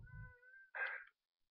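A pet cat named Candy gives one short, faint meow, alone and close in a quiet room.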